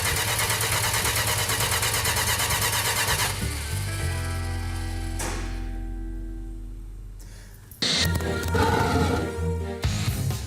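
A 1968 Dodge Charger R/T V8 engine cranks and churns loudly up close, settles into a steady low rumble for several seconds, then cuts off before a burst of noisy clatter returns near the end.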